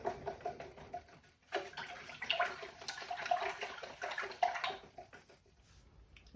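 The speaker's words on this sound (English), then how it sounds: "Now I'm going to rinse my brush out." A paintbrush is swished and rinsed in a container of water, giving several seconds of close, steady sloshing and splashing that fade to quiet dribbles.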